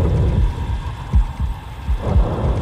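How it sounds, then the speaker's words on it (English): Heartbeat from the Silent Hill 2 Remake, set in an upside-down Brookhaven Hospital: deep, loud, throbbing thumps in a steady repeating rhythm over a low rumbling ambience, with no talking. "The heartbeat."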